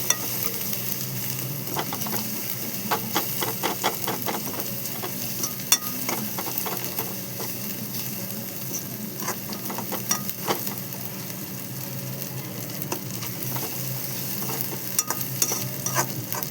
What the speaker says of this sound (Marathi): हे सगळं टाकल्याच्या नंतर पुन्हा एकदा मी सगळं असं मिक्स करून घेतलेलं आहे.